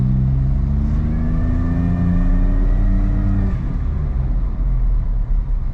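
A Suzuki Jimny engine drones steadily and close up from inside the cab while driving over a bumpy road, its pitch rising under light acceleration before settling into a rougher, uneven rumble.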